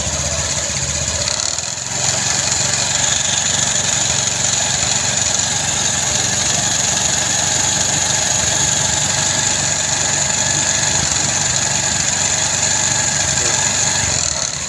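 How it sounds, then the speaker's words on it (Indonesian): Honda Vario 150 fuel-injected scooter engine at warm running temperature, held in a steady loud drone with a slight dip early on, recorded close by. "Coba kita gas pelan-pelan"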